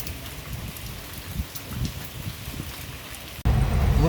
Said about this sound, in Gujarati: કેટલો સરસ વરસાદ પડી રહ્યો આપણે ભાડેરમાં